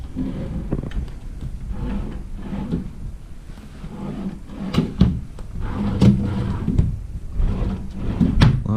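Wooden hotel room drawers slide open and shut several times at close range, with soft bumps and knocks scattered through a quiet room.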